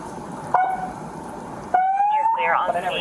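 A video game siren wails in rising tones, cutting in and out abruptly over a faint background hum, loud and close.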